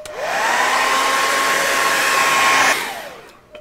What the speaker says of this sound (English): I'm going to speed up the drying a little bit with the hair dryer